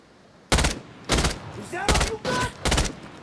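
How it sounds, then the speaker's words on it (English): Five loud bursts of video game gunfire from an enemy shooting at the player, sharp short volleys spaced about half a second apart, with faint background tones between them. "Oh, he's going to start shooting me now, of course."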